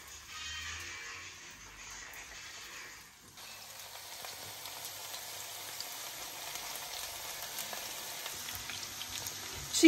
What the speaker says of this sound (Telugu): ఇప్పుడు ఆయిల్ బాగా వేడైన తర్వాత చికెన్ వేసుకుని డీప్ ఫ్రై చేసుకోవాలి.